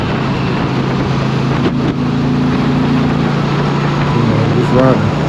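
A 2022 Indian Pursuit motorcycle cruising on the interstate, with a steady engine drone and heavy wind rush filling the clip at constant loud level, a brief dip near the middle.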